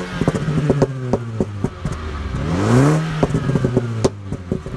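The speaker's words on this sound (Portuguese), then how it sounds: "Vamos acelerar aqui e escutar o barulhinho do carro." A 2016 Mini Cooper S with a 2.0 turbo engine rumbling at idle, then revving up in a smooth rising sweep before dropping back, with a few clicks and knocks around it.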